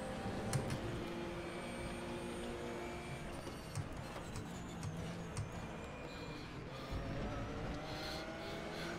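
BMW Z4 GT3 and M6 GT3 race cars lapping Imola in RaceRoom Racing Experience, a steady engine drone with shifting pitch, occasional tire noise and clicks, moderately loud and continuous throughout.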